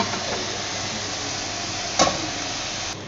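Chicken pieces fry in a pan and are stirred with a spoon while a white sauce pasta is prepared, a steady loud sizzle throughout with one brief scraping knock of the spoon near the middle.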